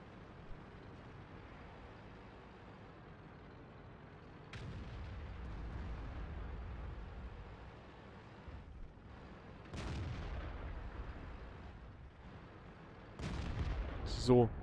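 Tank cannon fire in the video game World of Tanks, with an E-75 taking hits: several heavy booming shots spaced a few seconds apart over a low rumbling battle background.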